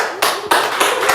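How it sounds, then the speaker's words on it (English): A few slow, scattered hand claps from a small group in a sports talk studio, four or so sparse bursts over a second, close and unenthusiastic, with no talking. "Unenthusiastic claps"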